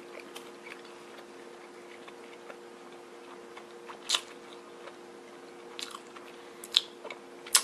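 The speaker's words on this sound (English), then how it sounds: "Let me take another bite." Someone chews a Burger King breakfast ciabatta club sandwich close to the microphone, soft, irregular bites and crunches over a faint steady hum, with a few louder smacking clicks toward the end.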